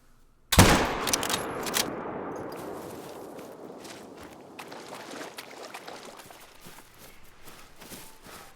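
Rifle shot at a whitetail deer in a hunting video game: one sharp, loud crack near the start, followed by a long decaying rumble and rolling echo fading over several seconds.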